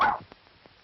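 A small Pomeranian dog gives one sharp, loud bark, followed by a couple of faint short yips, all in an old 1936 film soundtrack.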